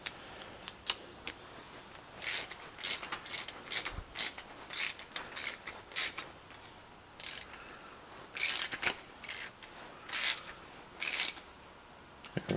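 A socket wrench ratchets while tightening a fitting on the fuel system of a 1977 John Deere 212 garden tractor, short repeated clicking strokes close up in a quiet workshop.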